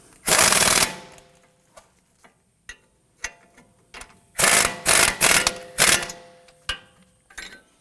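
Front strut bolts on a Volvo XC90 driven tight with a power tool, several loud rattling bursts of impact-gun hammering separated by short pauses and faint metallic clicks, close by.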